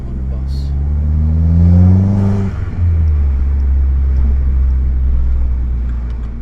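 A Vauxhall VXR engine drones loud and close while driving, its pitch climbing through a rev, dipping briefly at a gear change, then settling into a steady low rumble.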